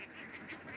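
Ducks at a duck farm quacking in a steady overlapping chorus, a flock of about 1,200 birds heard as continuous honking calls over a short stretch.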